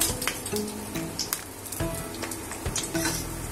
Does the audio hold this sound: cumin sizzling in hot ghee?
yes